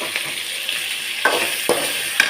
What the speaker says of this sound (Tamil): தக்காளியும் போட்டு ஒன்றா வதக்கிடலாம்.